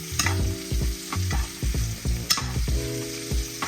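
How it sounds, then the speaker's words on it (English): Steak sears in a pan as butter is spooned over it, a steady sizzle broken by rhythmic scraping and clinking of the spoon against the pan, close and fairly loud with no voices. "Got some of that butter, you want to baste it"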